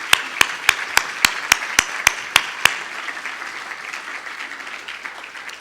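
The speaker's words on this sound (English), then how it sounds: "Let me just give her another round of applause." Audience applause at an awards ceremony, with a run of about ten sharp, evenly spaced claps close by over a broad wash of crowd clapping that gradually fades out.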